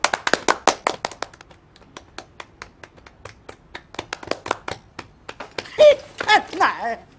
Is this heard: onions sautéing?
no